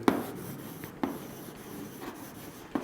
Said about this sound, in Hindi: थोड़ा पहले लिखता हूं मैं यहां पर